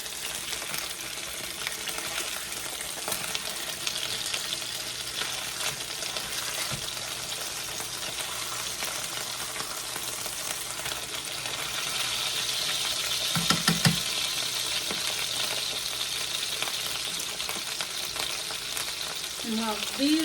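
Pork chops sizzling and browning in a frying pan, a steady close hiss of hot fat with occasional pops and spatters and a brief clatter near the end.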